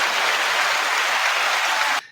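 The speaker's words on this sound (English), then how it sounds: "Let's give Anthony a hand clap," Dense, even hand-clapping applause for a guest on a podcast show, loud and sustained for about two seconds before cutting off abruptly.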